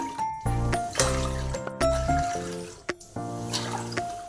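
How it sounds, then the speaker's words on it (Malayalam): Water is poured into a cooking pot of kaima rice in measured cups, four in all, while making chicken dum biryani: several short splashing pours with rising, filling tones and brief pauses between them. "4 കപ്പ് വെള്ളം ഒഴിക്കുക കേട്ടോ നമുക്ക്."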